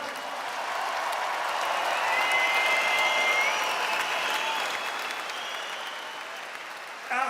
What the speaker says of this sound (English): Ladies and gentlemen, another round of applause for these two tonight.